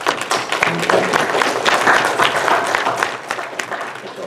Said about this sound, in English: I think we all owe them a round of applause for just their many years of service.